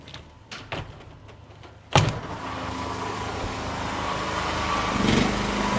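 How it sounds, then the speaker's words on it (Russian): Generators drone steadily outdoors during a power cut at a hotel, a continuous mid-level hum that follows a sharp bang of a door and a few soft knocks. "Сейчас на улице генераторы молотят, свет выключили"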